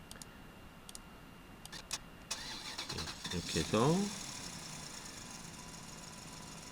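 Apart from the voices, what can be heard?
tractor engine sound effect in Cartoon Animator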